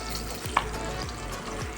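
Batter for egg wrap cheese rolls sizzles steadily in hot oil in a pan, a constant close crackle with a few soft stirring bumps.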